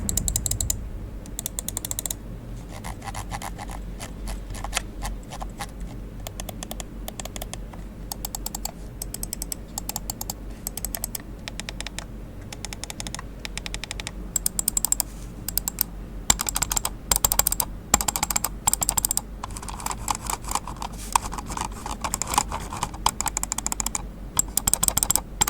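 Clicking of the buttons and scroll wheel on a Razer V2 X Hyperspeed mouse and a Dell mouse, a long run of quick, close, crisp clicks and ratcheting scroll ticks in irregular bursts.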